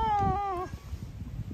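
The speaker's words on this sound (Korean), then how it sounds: "저렇게 이제 고양이들이 많이 있었어요" A cat on a street in Busan gives one clear, drawn-out meow near the start, followed by quieter rustling street noise.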